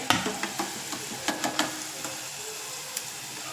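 A snack frying in hot oil gives a quiet, steady sizzle with a few sharp crackles and pops scattered through it, close by and with no talking.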